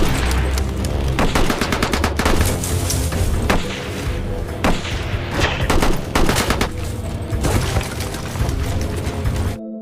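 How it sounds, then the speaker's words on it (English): Movie gunfight between British forces and Nazi soldiers in a World War II setting, with dense rapid bursts of machine-gun fire and single gunshots, loud and continuous. "British forces also arrived, leading to an unavoidable gunfight."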